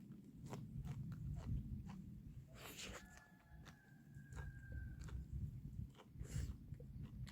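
Close, quiet biting and chewing of boiled dried radish greens, simmered with makgeolli, rice-washing water, perilla oil and sugar. Soft, repeated crunchy chews and wet mouth sounds play over a low background hum.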